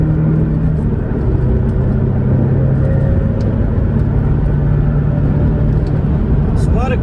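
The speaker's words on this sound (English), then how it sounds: "There's a lot of complaints about the engine note. This is a stock motor, stock exhaust" Stock engine and stock exhaust of a Porsche 718 Boxster, a steady low droning rumble that holds evenly throughout, as if heard from inside the car while driving.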